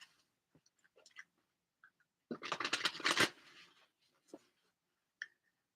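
Mystic Mondays tarot deck being shuffled, a quiet burst of riffling card flutter lasting about a second amid faint scattered taps and card handling.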